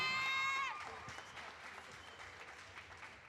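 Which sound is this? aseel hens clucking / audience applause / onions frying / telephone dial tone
audience applause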